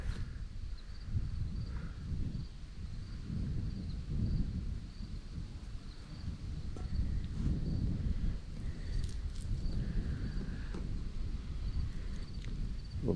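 Steady breezy wind blowing outdoors, a continuous low rushing rumble with faint rustling and insect-like chirps in the background, no talking.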